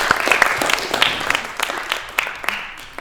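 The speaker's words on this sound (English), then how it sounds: "I want to give all 4 people here a big round of applause." An indoor audience at a literary event gives sustained applause, a dense patter of many hands clapping steadily throughout without a pause.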